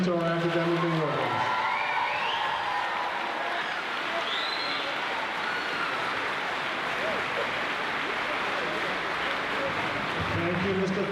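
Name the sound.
audience applause and cheering at a school ceremony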